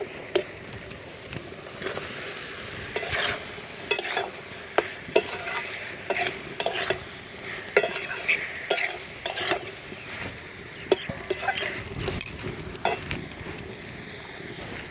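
Pointed gourd, fried potatoes and prawns stir-fried in a pan for a rustic home-style dish, a steady sizzle broken by frequent scraping spatula strokes in an uneven rhythm, close and moderately loud with no talking.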